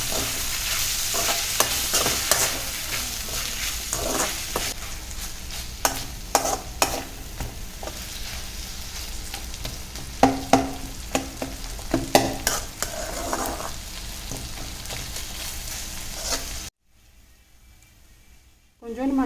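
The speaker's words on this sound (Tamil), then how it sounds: "தக்காளி 2 தக்காளி, கருவேப்பிலை போட்டு நல்லா வதக்கிக்கோங்க." Tomatoes and curry leaves sautéing in a pan for mutton fry, sizzling steadily under repeated scraping stir strokes, close up, before a short near-silent pause at the end.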